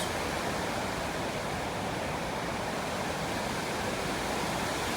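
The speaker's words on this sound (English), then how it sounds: "And the water flows down. Lots of waterfall around" Water pours down a waterfall in a steady, close, loud broadband rush with no break, among many falls along a river with fish and turtles, and no voices are heard.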